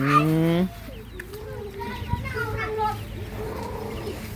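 Chickens cluck and chatter close by in short, uneven bursts, opening with a louder drawn-out squawk, on a cold, rainy day.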